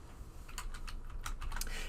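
Rapid keypresses on a TI-30 calculator, about a dozen quick clicks in an uneven run, close and fairly quiet.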